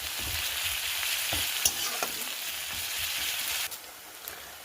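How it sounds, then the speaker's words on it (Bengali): Garlic fries with onions in oil in a pan for a Bengali tel koi dish. A continuous bright sizzle runs under intermittent scraping stirs, close and moderately loud. "পেঁয়াজটা ভালো মতো ভাজার পরে আমরা দিয়ে দিচ্ছি উপর থেকে রসুন এবং রসুনটাকেও আমরা সুন্দরভাবে কষে নেব"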